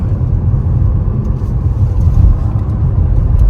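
A 2024 Chevy Trax ACTIV, a front-wheel-drive crossover, is driven hard through a turn, heard from inside as a loud, steady low engine and road rumble with no talking.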